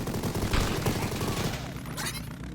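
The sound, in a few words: shotgun fire in the video game Mighty Goose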